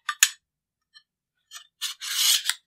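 A handguard is dropped onto a Sig MPX-K pistol during reassembly, giving a few short metallic scrapes and clicks, then a longer sliding rub as the part seats, close and alone.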